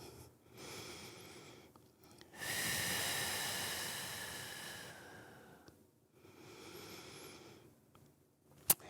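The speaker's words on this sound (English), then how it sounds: "Breathing deep into the body." Slow, deep breathing during a morning yoga flow in child's pose: a long airy inhale-exhale cycle with a strong hiss in the middle, close to the microphone and with no talk.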